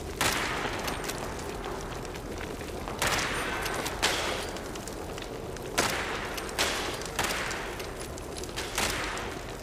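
Repeated gunfire from teammates in a sniper shooting video game, with sharp loud shots every second or so over continuous battle noise, no talking.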